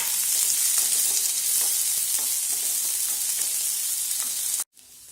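Chopped onion and curry leaves sauté in a pan of hot oil for a carrot and beans stir-fry, giving a steady, close, even sizzle with faint stirring that cuts off abruptly near the end.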